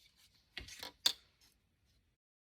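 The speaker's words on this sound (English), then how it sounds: "So I'm just going to cut it off with my scissors." A few crisp snips from scissors cutting off a perforated paper tab, two short bursts close by with small rustles between them and quiet after.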